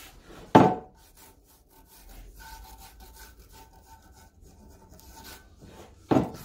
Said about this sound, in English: we're gonna sand this